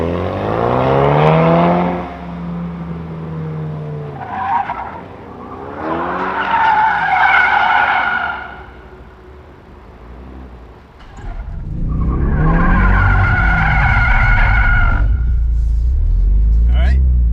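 A 2024 Ford Mustang S650 drifts on the handbrake and spins out. Loud tire squeals come in long howling bursts over engine rumble, with people talking in between.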